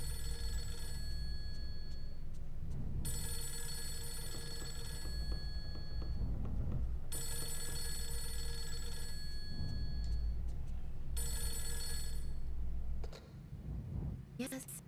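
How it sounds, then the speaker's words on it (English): Old telephone bell ringing in the horror video game Fatal Frame 3, loud repeated rings in long bursts separated by pauses, with people talking over it. "And the phone's ringing."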